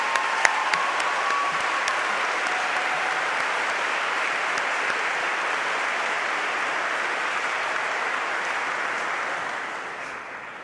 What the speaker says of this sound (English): Let's have one more round of applause for our incredible faculty and staff.